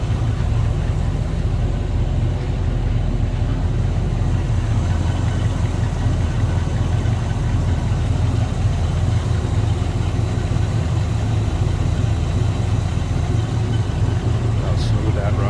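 A 1964 Chevrolet Corvette convertible's 327 V8 idles smoothly and steadily, a continuous low rumble with an even loudness from start to finish.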